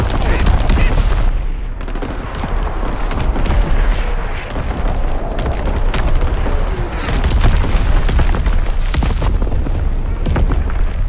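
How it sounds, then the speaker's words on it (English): Enemy artillery bombardment in Call of Duty: WWII, with loud booming explosions and heavy machine-gun fire in a constant barrage, near and overwhelming, with voices shouting beneath. "Incoming enemy artillery!"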